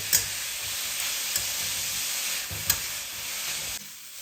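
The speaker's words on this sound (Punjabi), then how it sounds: "ਚਿਕੰਦਰ ਨੂੰ ਮੈਂ ਲਗਾਤਾਰ ਹਿਲਾਉਂਦੇ ਹੋਏ 4 ਮਿੰਟ ਲਈ ਭੁੰਨ ਲਏ" Grated beetroot stirred and roasted in ghee over medium heat for halwa, a continuous sizzling hiss broken by a few sharp scrapes of the spoon against the pan, close and steady.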